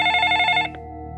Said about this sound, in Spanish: El teléfono dejó de sonar tan repentinamente como había empezado